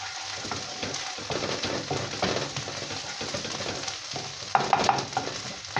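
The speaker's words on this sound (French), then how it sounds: "J'ai assaisonné et j'ai mis juste un peu de la tomate pâte. Je laisse griller un peu." Vermicelli toasting in a frying pan with a little tomato paste, giving a steady close sizzle and scraping stir with small clicks and ticks throughout, rising briefly near the end.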